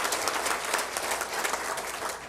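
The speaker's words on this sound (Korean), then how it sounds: "예, 박수로 축하해 주시기 바랍니다." A church congregation applauds at a service to congratulate couples about to marry, a steady, dense wash of clapping from many hands that holds evenly throughout without pauses.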